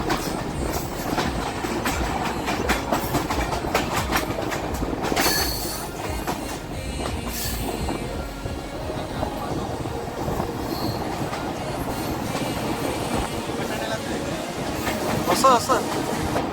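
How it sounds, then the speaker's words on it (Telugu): A passenger train on the Visakhapatnam to Araku line rolls steadily along the tracks, loud and close, with rhythmic wheel clatter and occasional squeals, and people talk over it at times. "పాన్ తిరిగినట్టు తిరుగుతుంది ట్రైన్ మొత్తం."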